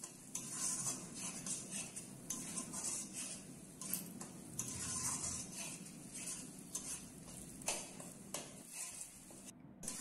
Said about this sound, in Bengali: হলুদ গুঁড়ো দিয়ে মশলাটা 2 থেকে 3 মিনিট কষিয়ে নেব।